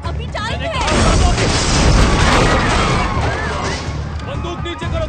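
A large explosion in the action movie Red Dawn erupts in a loud, sustained blast and roar with debris crackle and whooshing effects layered over it, filling the whole five seconds.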